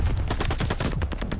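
Rapid automatic gunfire from an MP40 submachine gun in the video game Call of Duty Vanguard, a dense, loud stream of shots rattling steadily without pause for the whole stretch.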